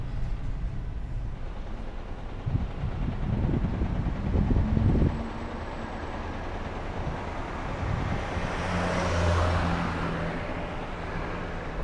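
Road traffic heard from inside a Toyota Hiace van in slow stop-and-go driving: a steady low engine and road rumble with wind noise, swelling and easing as the van creeps forward, with no talk.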